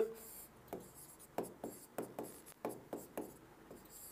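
Writing strokes during a Hindi grammar lesson, a quiet run of short scratchy taps in an uneven rhythm, close but faint over a soft background hiss, with no voices.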